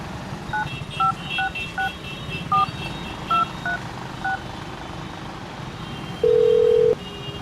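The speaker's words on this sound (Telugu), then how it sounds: "షాప్ అతనికి ఫోన్ చేద్దాం." A phone number is keyed in as a quick series of about ten short, evenly spaced touch-tone beeps over faint traffic noise, followed by one longer steady tone.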